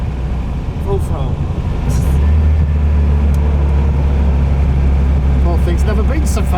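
A VW Beetle engine drones loudly at full throttle while drifting, a steady low rumble that climbs and thickens partway through, with someone talking over it from inside the car.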